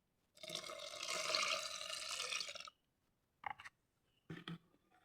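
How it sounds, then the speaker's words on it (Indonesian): Water poured into a homemade liquid soap mixture, a steady splashing pour lasting a couple of seconds, then two short sloshing bursts as more is added, close and fairly quiet. "Kita tambahkan lagi airnya."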